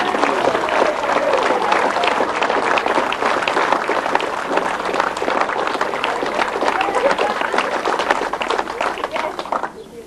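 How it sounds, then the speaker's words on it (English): Loud, dense applause from a crowd at a shop's centenary celebration, honouring the family and staff, sustained and steady for about ten seconds before tapering at the end. "we should just give this whole family and all the staff a massive round of applause for their tremendous contribution"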